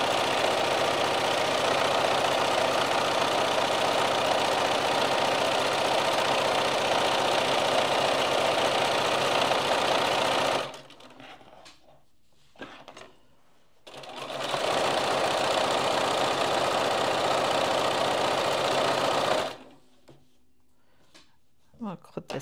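A sewing machine runs loud and steady while stitching, a dense mechanical whir that stops twice for a few seconds and then starts again.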